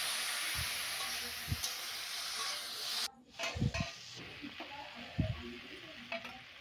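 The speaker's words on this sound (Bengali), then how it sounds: "ভেন্ডি ভাজা হচ্ছে," Sliced okra frying in a pan for a Bengali bhindi aloo dish, a quiet steady sizzle broken by scraping stirs and light clinks of the spatula against the pan.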